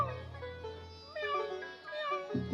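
During a Shrimad Bhagavat katha recitation, a voice imitates a kitten with a string of drawn-out, wavering meows that rise and fall, close and fairly soft.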